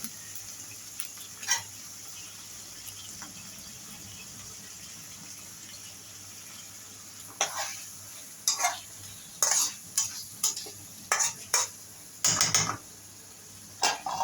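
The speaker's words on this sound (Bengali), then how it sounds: "মশলাগুলো ভালোভাবে নেড়ে কষিয়ে নিব তারপর মেখে রাখা মাংসগুলো পাত্রে দিয়ে ঢাকনা দিয়ে ডেকে দেব" Spices and marinated chicken being stirred and fried in a pot, a steady sizzle running underneath while a spoon scrapes and clatters in a quick series of strikes, dense in the second half, with no voices.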